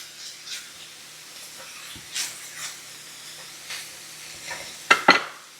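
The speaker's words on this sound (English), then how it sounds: "go ahead and give that a stir" Ground ginger and ginger paste are stirred in a pan for a cabbage and beef stir fry: a soft low sizzle with scattered spatula scrapes and a couple of sharper clatters near the end.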